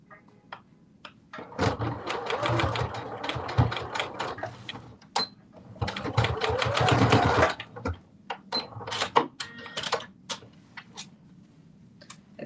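A home sewing machine stitches pieces of Vogue 1835 slippers in close, rapid mechanical bursts of whirring and ticking, separated by short pauses and single clicks.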